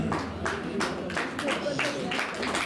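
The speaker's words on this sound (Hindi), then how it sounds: "जोरदार तालियां बजाते हुए" Applause from the audience at a chess championship award ceremony, steady rhythmic clapping heard at moderate distance with a voice talking over it.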